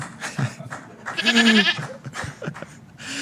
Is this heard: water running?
no